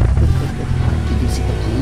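A toy car starts up with a steady low motor rumble that runs evenly and fairly loud throughout, with no speech over it.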